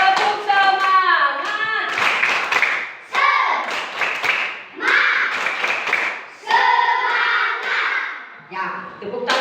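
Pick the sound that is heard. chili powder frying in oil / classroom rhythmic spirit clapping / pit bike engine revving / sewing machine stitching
classroom rhythmic spirit clapping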